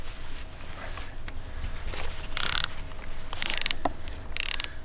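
A ratchet with a spark plug socket tightens a spark plug on a Lexus IS250, giving three short bursts of rapid clicking separated by quieter pauses, close and clear with no talk.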